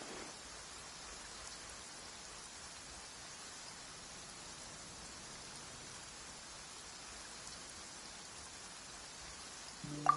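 Rain falling outdoors, a soft, steady hiss of drops on a surface, faint and continuous throughout, ending with a brief sharper sound at the very end.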